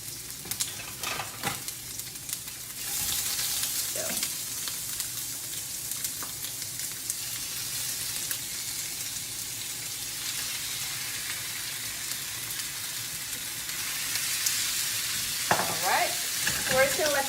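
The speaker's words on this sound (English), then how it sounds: "I'm gonna start cooking my red pepper. Here we go, hear that sizzle" Red pepper and chicken frying in a pan, a continuous close sizzle that swells louder as food is added and stirred, with occasional utensil clicks.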